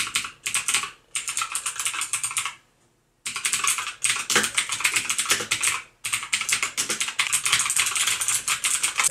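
Rapid typing on a black Genesis mechanical keyboard with blue switches, crisp clicky keystrokes in fast bursts with brief pauses between them, close and fairly loud, with no voices.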